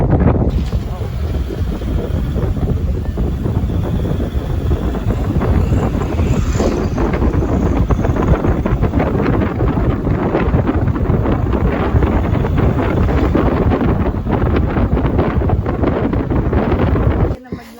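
Loud, constant wind buffeting the microphone while riding in the open back of a moving vehicle, with a roaring low rumble throughout and a voice briefly under it.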